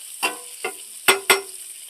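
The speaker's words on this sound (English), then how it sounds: "So I'm going to cook my eggs over here and my sausage." Eggs and sausage on a griddle, heard as four short close clicks and knocks with a faint hiss of cooking behind them.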